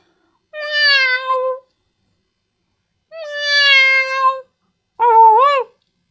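A person imitates a cat meowing, giving three separate drawn-out, wavering meows with pauses between them, loud and close with no other talk.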